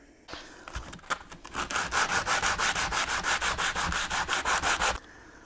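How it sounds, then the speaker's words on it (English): Wooden axe handle wedges are sanded to profile their ends, close rhythmic rasping strokes that start out irregular and settle into a fast steady back-and-forth scrub, then stop abruptly. "sand that down to profile both ends"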